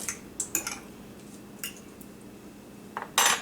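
Fries tossed with olive oil in a bowl, giving a few scattered soft clinks and scrapes of utensil against the dish, with a louder clatter near the end; no talking.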